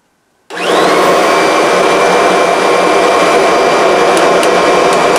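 A Kirby vacuum cleaner switches on at full power with a sudden onset and then holds a loud, steady roaring whine with broad airy noise. Nobody talks over it.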